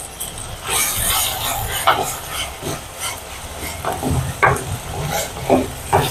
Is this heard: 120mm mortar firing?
no